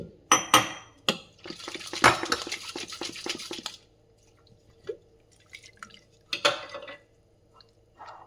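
Beetroot juice is strained through a strainer, with thick liquid spattering and dripping in a dense burst, then scattered drips and light metallic clinks of the strainer and vessel nearby.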